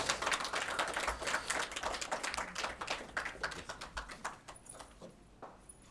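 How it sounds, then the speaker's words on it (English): An audience applauds at an award ceremony as a recipient comes forward, dense clapping that holds steady for several seconds and then thins out and fades. "let's give us a round of applause"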